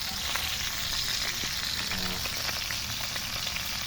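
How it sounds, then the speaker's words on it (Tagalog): Galunggong fish frying in oil in a pan, a loud continuous crackling sizzle with dense spattering pops throughout, no voices. "Kaya magprito tayo ng galunggong."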